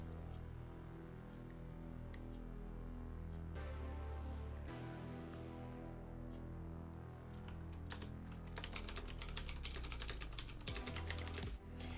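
Someone types on a computer keyboard with quick, clicky keystrokes over a low steady hum. The typing is faint at first and grows into a dense, fast burst toward the end.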